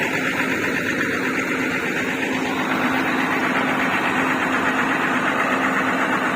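A white Alfarruq bus sits with its engine idling, a steady low rumble with a faint knocking pulse and a constant hum, loud and close, with no voices.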